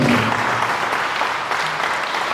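An audience applauds the celebrant at a university valedictory lecture, with a brief burst of steady clapping at moderate level from start to finish.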